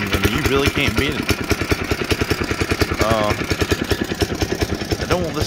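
A barn-find power sport with a Tecumseh 6.0 small engine runs at a rough, pulsing idle, its close, rapid, uneven firing chugging steadily while someone talks nearby.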